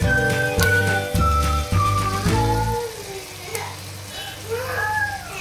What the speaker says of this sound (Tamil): இந்த எண்ணெயில் வந்து ஒரு அஞ்சு நிமிஷம் வதங்கட்டும்